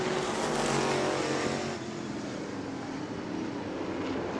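Race cars roar around the New Smyrna track in the late laps of a family fun night event, a dense loud engine wail that swells as cars pass and then settles into a steadier drone.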